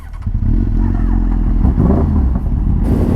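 Sport motorcycles including a ZX10, Gixxer 600 and 1000, Hayabusa, GS 650, ZX14R and FZ10 set off together on a group ride. Their engines make a loud, close, continuous roar with overlapping revving.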